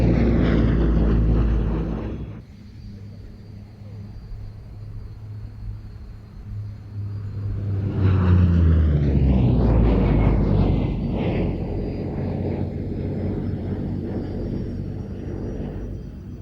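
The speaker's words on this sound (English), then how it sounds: "This is the only P-38 flying this side of the Atlantic, and appears in the colour of a 20th Fighter Group machine from 1944." A Lockheed P-38 Lightning twin-engine fighter in 20th Fighter Group 1944 colours flies at an air show, its engine drone rising and falling as it passes, with a loud swelling roar and pitch shift midway.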